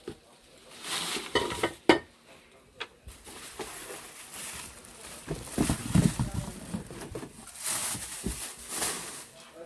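A Prestige granite nonstick kadai and pans being handled, with clanks and knocks of cookware close by, scattered bumps and scrapes, and a voice speaking at intervals.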